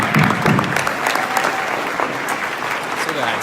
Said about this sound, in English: Ladies and gentlemen, give Mao a big round of applause.